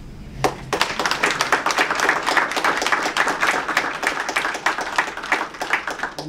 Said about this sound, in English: Would you like to give him a clap?